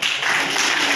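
Workshop audience clapping, a dense and even wash of many hands applauding together at close range, loud and continuous for about a second.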